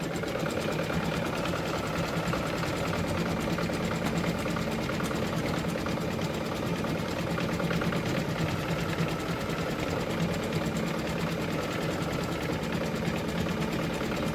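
A domestic embroidery machine stitches out a table runner, with a fast, continuous mechanical needle chatter and motor hum, steady and close throughout with no talking.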